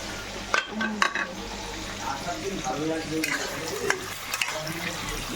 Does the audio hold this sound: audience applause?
no